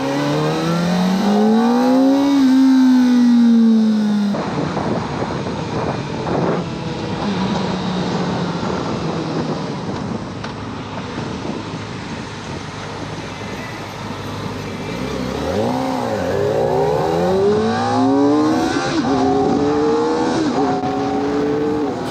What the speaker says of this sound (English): You see me rolling off the throttle, it's because I'm forgetting that I can just quick shift up.